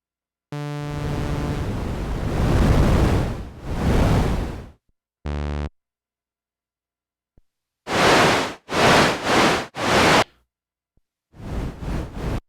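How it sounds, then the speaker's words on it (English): Broadband white noise from the noise circuits of Moog Sub 37 and Sub Phatty analog synthesizers, played in several separate bursts: a long sustained wash, a short tone, then a run of quick evenly spaced hissing blasts and a final pair. "they both have white noise circuits"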